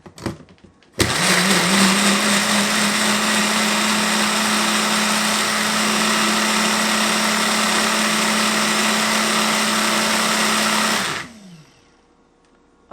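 An OYeet personal blender whirring through strawberries, a loud, steady motor roar that starts abruptly after a brief clatter, holds evenly for about ten seconds, then spins down and stops.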